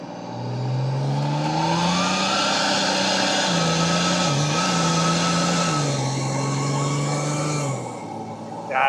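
A turbocharged car engine with a lock-up torque converter pulls hard under boost, its loud engine note climbing steadily, briefly dipping mid-run, then rising again before easing off near the end.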